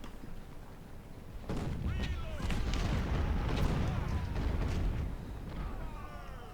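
Cannon and artillery fire in the Ultimate General: Civil War strategy game, a battlefield rumble of repeated booms over continuous background din, with a voice speaking over it.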